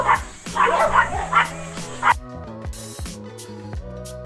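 Several dogs bark in quick, loud bursts at close range at runners on the Montalban road and trail run, then break into shorter yips and whimpering barks.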